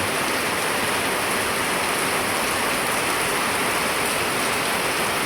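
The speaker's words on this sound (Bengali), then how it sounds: "ঘুম থেকে উঠে দেখি প্রচুর বৃষ্টি হচ্ছে" Steady, dense rain pours down continuously, a broad hiss filling the whole stretch with no voices or pauses.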